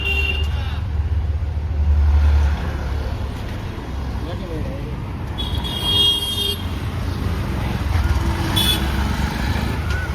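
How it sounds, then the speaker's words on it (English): Street traffic in Pune, India, with tuk-tuks and other vehicles passing, a steady engine rumble and occasional horn toots, while people talk nearby over the noise. "I like these tuk-tuks."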